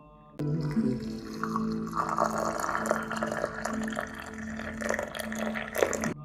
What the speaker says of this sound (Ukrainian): Я відкриваю свій чайничок. Тут вже є чай. Акуратненько заливаю.